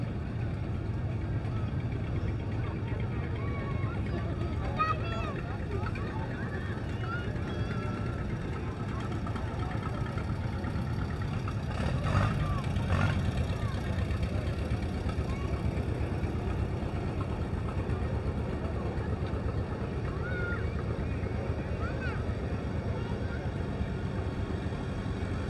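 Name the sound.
restored tractors driving in a veterans day parade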